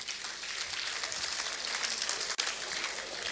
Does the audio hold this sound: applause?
yes